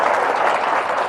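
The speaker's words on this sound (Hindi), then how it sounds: "ताली बजा दो यार भैया।" Dense, steady applause from an audience at a live Hindi comedy show in Satna, filling the whole moment with continuous clapping and no voices on top.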